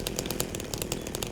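Chainsaw revving in Silent Hill 2, a steady loud buzzing engine with rhythmic surges, close and continuous with no voices.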